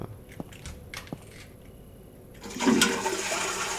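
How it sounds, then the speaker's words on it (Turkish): A toilet flushes in the video game Internet Cafe Simulator 2, a sudden loud rushing of water after a few quiet clicks and taps, continuing to the end with no talk. "Arada bir gireyim de sifon çekeyim bana"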